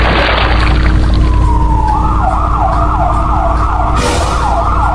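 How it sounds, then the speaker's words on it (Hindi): A police car siren wails in repeated rising and falling sweeps, loud and close, sliding up from a steady tone into a fast cycling pattern, with no voices over it. "बॉस पुलिस का सायरन"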